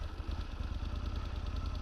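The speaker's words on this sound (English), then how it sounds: "for a 20-year-old Italian sport bike, it just wakes right up" A 20-year-old Italian sport bike engine runs at a steady, loud, close idle, its even low throb continuous and alone with no voices.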